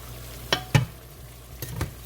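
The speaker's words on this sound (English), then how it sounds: "Roll that corn around in that pan for a minute or two or so" Corn kernels sizzle softly in a hot pan while being stirred for a seafood stew, with a few sharp scrapes and clacks of the utensil against the pan over a low, steady frying hiss.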